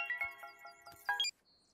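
A phone ringtone from an incoming call by a man's wife, a short tinkling electronic melody of several notes, fairly faint, ending abruptly.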